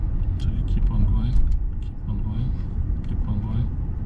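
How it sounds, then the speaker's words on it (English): Car engine rumbling and building power as a teenage driver pulls away on a quiet road, a steady close drone running throughout under occasional talk. "step on the gas so that you give the car a little bit of power"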